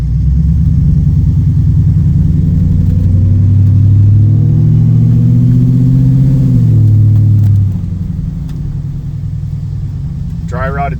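Mercury Marauder fitted with an SVT Cobra engine and custom exhaust, on dry-rotted tires, rumbling loud and close as it pulls away and revs through the gears, then the engine note drops back to a steadier drone.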